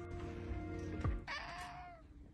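A cat gives a single drawn-out meow, close and fairly soft, over a low steady background hum, with a brief thump just before it.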